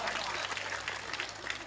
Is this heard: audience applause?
yes